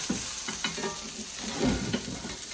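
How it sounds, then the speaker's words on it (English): Beef for pot roast searing in a hot pan, a steady close sizzle with crackling bursts and light scraping or stirring, no talking. "All right, we'll let it sear for about 5 minutes on each side."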